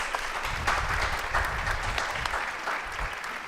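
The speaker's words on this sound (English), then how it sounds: "Oh, we're clapping." Studio audience at a firearms talk show claps steadily for a woman called up on camera, a dense sustained applause filling the whole stretch with a faint voice underneath.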